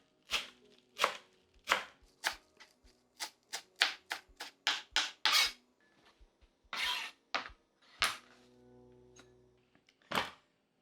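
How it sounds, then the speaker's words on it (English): Knife roughly chopping ingredients for a Kenyan chicken, potato and onion dish on a board, a quick run of sharp close chops with brief pauses, then a few more cuts after a short lull, with no talking. "Roughly chop."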